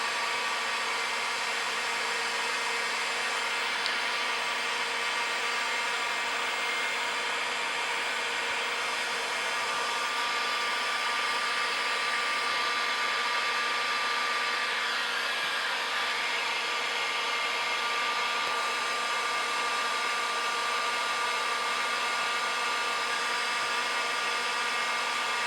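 A heat gun blows in a continuous, loud rushing hiss, unchanging for the whole stretch, as it shrinks heat-shrink tubing over a butt connector for boat rub-rail LED lights.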